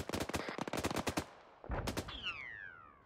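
Incoming mortar rounds and gunfire in the military shooter Arma 3 rattle off as rapid cracks and bangs, pause, then strike again, followed by a descending whistle of shrapnel, all loud and without speech.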